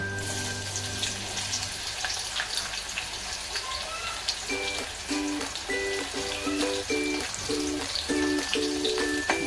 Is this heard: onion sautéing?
yes